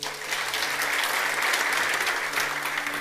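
A church congregation claps during a worship service sermon, a continuous, even roar of applause held at a steady level throughout, fairly close and full.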